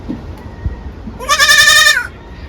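A single loud, nasal goat bleat rings out close by, lasting under a second, against a quiet outdoor background with faint rustles.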